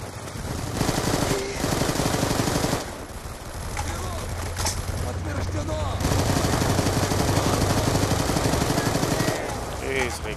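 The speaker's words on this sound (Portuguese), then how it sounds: "Ui, já estás a levar tiros" Rapid bursts of gunfire in the video game Black Ops 2 rattle in several stretches, with a person talking over the shooting.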